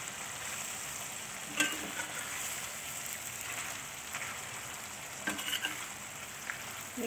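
Intestines fry in a pan as kemangi basil is stirred in, giving a steady close sizzle with a few louder scrapes and clacks of stirring, no talking.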